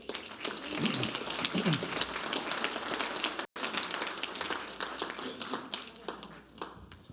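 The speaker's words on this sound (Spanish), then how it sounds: "Dale un aplauso al Señor" Church congregation applauding the Lord during a Spanish-language sermon, a busy, sustained patter of many hands at moderate loudness with a brief dropout midway and faint voices mixed in.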